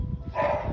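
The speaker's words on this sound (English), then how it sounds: "You can really hear her barking. It's a loud dog." A loud female dog barks from an upstairs room of a house, a brief, somewhat muffled bark rising over a low background rumble, with no talking.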